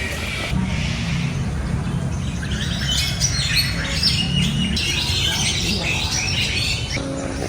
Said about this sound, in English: a black swan.